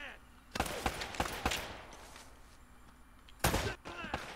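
Gunfire in the video game Uncharted: Drake's Fortune, several sharp, quiet bursts of shots scattered over a few seconds, a pair clustered early and a louder volley later, against low background game sound.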